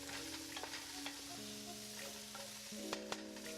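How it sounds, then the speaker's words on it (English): Curried butternut squash sizzles in a pot while being stirred, a faint, steady frying hiss with soft scrapes and a low hum underneath, and no speech. "So now we're just going to stir to combine that curry powder."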